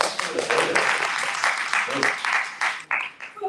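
Applause from the audience at a Pride film and poetry mixer, steady and fairly loud for a few seconds, with a voice or two cheering over it before it tapers off near the end.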